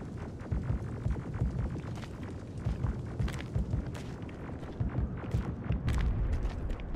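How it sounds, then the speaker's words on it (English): Bursts of rapid gunfire crackle and thump through a rumbling background in the video game Terminator: Resistance, irregular volleys continuing throughout. "Oh, it's gunfire."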